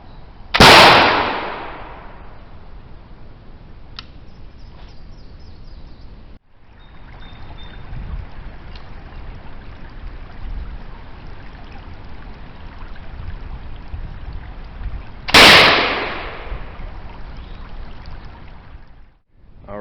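Two loud, sharp gunshots from a Bumford Fowler black-powder gun, one at the start and another about fifteen seconds later, each with a long fading roar; quiet outdoor ambience and faint loading clicks fill the gap between them.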